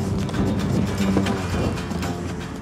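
Hoofbeats thud irregularly on soft ground as a horse moves and jumps a small narrow cross-country obstacle, with faint clopping rhythm and outdoor background noise.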